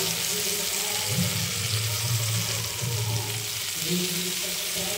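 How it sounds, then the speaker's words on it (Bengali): Chopped mushrooms fry in a pan with a dense, continuous sizzle close up, steady and fairly loud throughout with faint stirring underneath. "দিয়ে দিলাম কেটে রাখা মাশরুমগুলো।"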